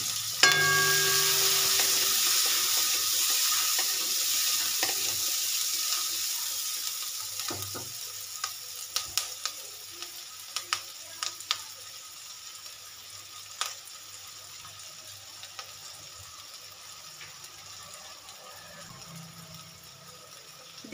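Finely sliced onion and capsicum frying in a pan for a bitter gourd stuffing, a steady bright sizzle with scattered clinks and stirring scrapes, no talking.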